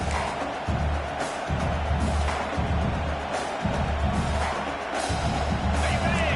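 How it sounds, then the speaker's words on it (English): Football stadium crowd at a college game cheering and roaring steadily, a dense wash of many voices rising in waves, with a commentator talking over it. "this crowd is turning it up a notch"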